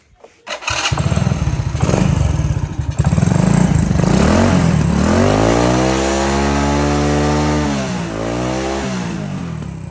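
A 1994 Honda C70 motorcycle engine kicks into life close by, then runs loud and steady with rising and falling revs for the rest of the clip.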